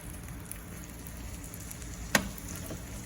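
Bologna slices fry in a pan over turned-up heat, giving a steady, even sizzle and crackle throughout, with one brief sharp clack partway through.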